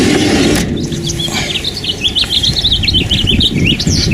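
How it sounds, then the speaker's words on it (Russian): Birds singing outdoors near a motorhome parked in frosty weather, bright chirps and short warbling phrases repeating in quick succession, fairly close and loud above a low background rumble. "Приезжаешь домой, а тут такое пение птиц."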